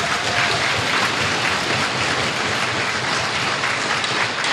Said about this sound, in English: much deserved applause.